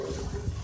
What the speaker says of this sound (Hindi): मैं थोड़ा सा बिल्कुल पानी इसमें ऐड कर रही हूँ ताकि सॉफ्ट हो जाए टमाटर।